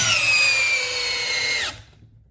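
A Milwaukee M12 Gen3 hammer drill runs loud and steady at high speed, its whine holding for about a second and a half before it cuts out abruptly and fades.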